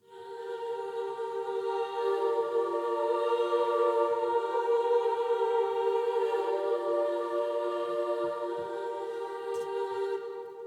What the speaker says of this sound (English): And the choir sounds a bit like this.